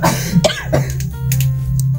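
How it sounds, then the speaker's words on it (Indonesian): A few harsh coughs and throat-clearing sounds, close and loud, followed by a quieter stretch with faint background hum. "Kita lagi pada batuk ini ya"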